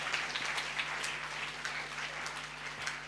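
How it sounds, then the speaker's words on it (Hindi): A church congregation at a Sunday service in Karimnagar claps in praise, a steady dense patter of many hands with a low hum underneath, moderately loud throughout. "हम लोग ताली बजा के प्रभु की स्तुति करेंगे।"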